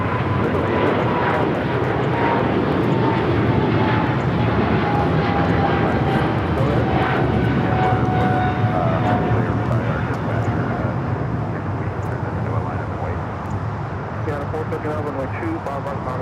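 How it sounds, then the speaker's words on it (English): An Air China Boeing 777-300ER takes off from LAX, its jet engines a loud, sustained roar with a rising tone, filling the whole stretch without letup. "That was Air China 988 taking off to Beijing on the 777-300ER."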